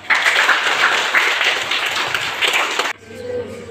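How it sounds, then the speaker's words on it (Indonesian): Children at a Penan ministry gathering clap together loudly for nearly three seconds, then the applause stops abruptly, leaving quiet room sound. "Tepuk tangan untuk semua"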